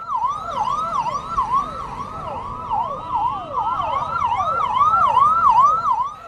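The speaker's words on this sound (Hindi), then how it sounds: "केजरीवाल को जेल ले जाती पुलिसिया गाड़ी के हूटर की आवाज" A police vehicle's hooter wails in repeated fast up-and-down sweeps, loud and close, as it carries Kejriwal to jail, over a low rumble of traffic and no voices.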